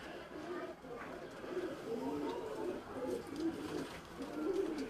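Pigeons kept at a dera in Rawalpindi coo in soft, repeated, rolling phrases, fairly faint and steady throughout.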